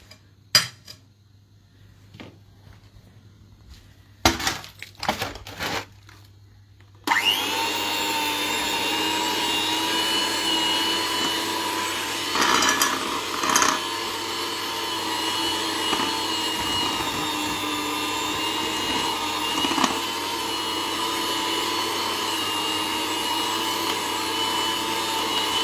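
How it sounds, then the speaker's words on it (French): An electric mixer whirs steadily into Yule log cake batter in a home kitchen, starting after a few light clinks of utensils and running loud and continuous for about eighteen seconds, with a faint metallic rattle in the bowl. "Il faut battre. On va le faire au batteur."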